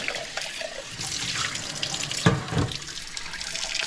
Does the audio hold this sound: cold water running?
yes